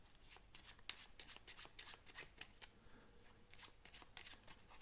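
Playing cards shuffled close up in a quiet room, a quick series of crisp riffling snaps and flicks in uneven bursts that continue steadily throughout without talk.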